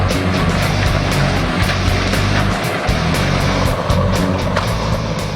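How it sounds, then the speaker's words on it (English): A Bandit Beast Recycler grinds clearing waste into boiler fuel, producing a loud, continuous roar with rhythmic knocks and thumps from material hitting the cutters, and no talking. "Shown here is the Beast processing clearing waste used for boiler fuel"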